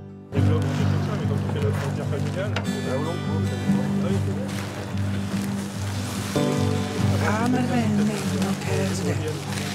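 Inboard engine of an Alubat sailboat running steadily at idle with a low, even rumble, water sloshing at the hull, and people talking nearby.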